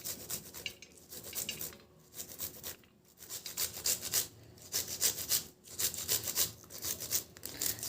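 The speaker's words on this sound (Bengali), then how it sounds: "গ্রেটারের সাহায্যে ভেন্ডিগুলো আমি গ্রেট করে নেব" Okra rubbed against a hand grater gives a steady rhythmic rasping, close and fairly quiet, in repeated strokes with short pauses between them.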